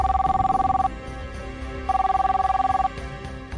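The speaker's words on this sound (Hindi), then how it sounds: "तभी गीता के मोबाइल फोन की घंटी बज उठी।" A mobile phone rings in two bursts of warbling electronic tone separated by a short pause, clear and fairly close.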